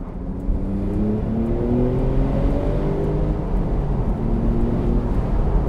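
A Porsche 992 Turbo S accelerates hard in third gear at road speed, engine note climbing steadily under heavy road and wind roar, heard from inside the cabin.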